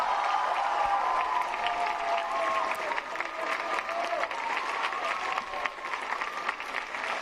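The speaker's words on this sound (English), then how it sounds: "Can we give him a huge round of applause and cheer?" Applause and cheering from a large young crowd at an interreligious meeting with Pope Francis in Singapore, dense and sustained throughout, with voices mixed into the clapping.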